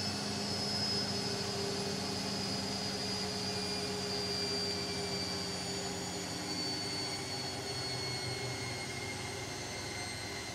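A Zanussi ZWG7160P washing machine on its final 1600rpm spin of a coloureds cycle gives a steady, loud high-speed whine and rumble with sustained tonal hum that holds throughout, no voices.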